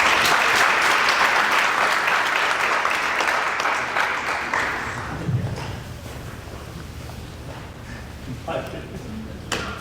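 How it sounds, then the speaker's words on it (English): An audience applauds loudly at a first-generation graduation cording ceremony, then the clapping thins out to scattered claps and background murmur. "Another round of applause for everybody."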